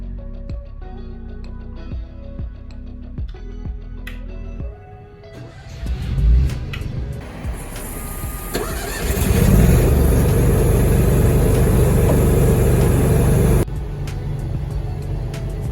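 A 7,000-watt Cummins Onan generator in a converted van cranks over and catches. Its engine then rises to a loud, steady running roar that fills the space, and later drops to a lower, even hum.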